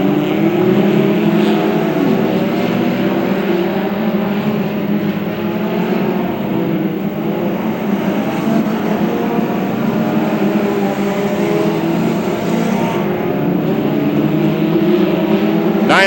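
Race cars lapping at Macon Speedway, with a continuous loud roar of engines as the lead pack works through lapped traffic, sustained and close without pause.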